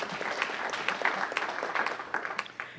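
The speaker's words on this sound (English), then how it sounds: "Everyone give her a round of applause for bringing her out." A round of applause fills a council meeting chamber, dense steady clapping from a modest crowd at moderate loudness, sustained for the whole stretch with no talk over it.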